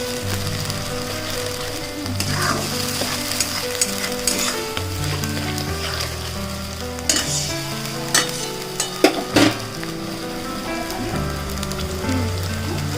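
Spice masala for kasundi chicken stirred in a hot pan, loud continuous sizzling with scraping stir strokes and clinks of a spatula, crackling steadily throughout with no talking.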